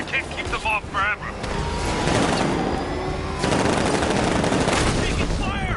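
Sustained gunfire rattles through a Batman video game fight, long bursts of shots roaring over shouting voices, with brief spoken calls early before the shooting dominates.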